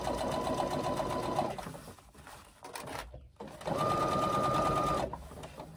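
A sewing machine runs a side seam at a 5/8-inch allowance angling to 3/8 inch, in two steady whirring bursts split by a short pause, close and fairly loud with no talk.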